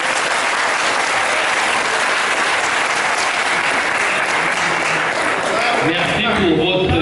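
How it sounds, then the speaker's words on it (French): Dense, sustained applause from an audience at a Christian–Muslim debate event, loud and steady throughout, with voices emerging near the end as the clapping thins. "Est-ce qu'on peut acclamer le chef?"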